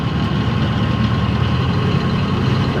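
The inboard engine of a 44 ft monohull sailboat runs in reverse at about 1500 RPM, a loud steady low diesel drone with a slight knocking pulse, close and unbroken.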